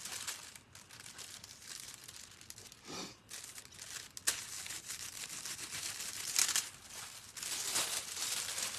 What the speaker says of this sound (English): we've also discovered a great way of rubbing the foils